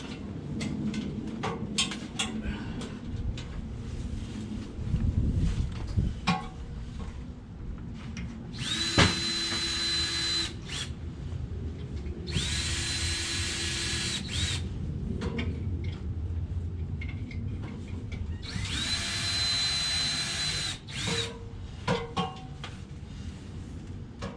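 A power drill whirs in three separate bursts of a few seconds each, driving screws while installing a security door, amid clattering, shuffling handling noise nearby.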